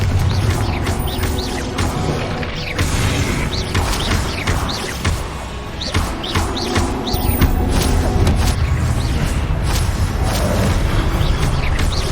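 In Hogwarts Legacy, a Confringo fire spell goes off amid dense game noise: repeated booming blasts and crackling impacts over a continuous rumbling, mechanical bed, loud throughout with no speech.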